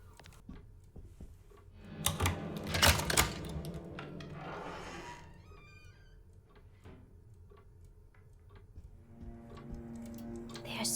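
A typewriter in the 2024 game Alone in the Dark clacks in a short burst of sharp, close keystrokes, followed by quieter ticks and faint voices in the background.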